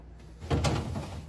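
A refrigerator vegetable drawer or door shuts with a single soft thud, close by, followed by a low rumble.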